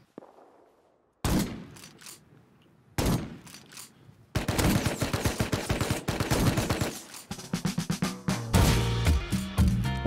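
Bursts of AK rifle gunfire in a video game set around a tugboat base raid: two short bursts after near-silence, then a sustained rapid volley of loud, close cracks continuing to the end.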